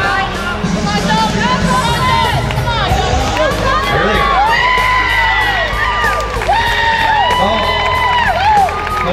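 Spectators at a 2013 arm wrestling competition cheer, whoop and yell loudly and continuously, excited voices rising and falling over a dense crowd roar, with people shouting nearby.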